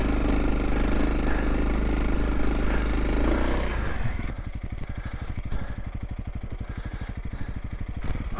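A Honda CRF300L motorcycle rides through snow, its engine first a loud, dense roar, then dropping to a close, rapid, steady thumping idle-like beat as the rear slides.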